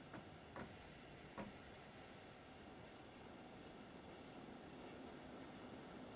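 An electric local train in Dresden, Germany, accelerates in Train Sim World, giving a steady, quiet rolling rumble and hum with a couple of brief clicks near the start.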